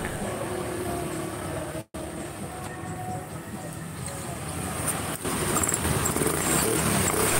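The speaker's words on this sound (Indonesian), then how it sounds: "mesin sudah langsung tokcer dengan sempurna tanpa ada kendala" A loud, steady engine rumble just after a service runs continuously with a brief dropout near the start, then continues running evenly.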